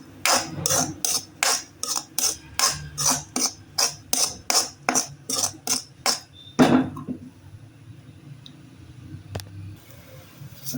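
A spoon steadily scrapes egg rice around a pan in about fifteen even strokes, a rhythmic rasping pulse. It ends with one heavier clatter against the pan, followed by near quiet with faint kitchen noise.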